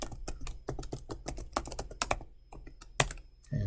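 Someone types code on a computer keyboard, producing quick, irregular clusters of crisp keystrokes up close, with a brief pause near the end.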